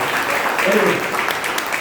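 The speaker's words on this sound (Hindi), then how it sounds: "आप ताली बजा सकते हैं अपने आप के लिए।" An audience claps for themselves in a lecture hall, a brief, steady burst of applause lasting under two seconds with a voice faintly present beneath it.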